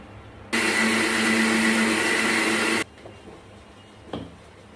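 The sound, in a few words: electric grinder blending potato, tomato, onion and green chili into paste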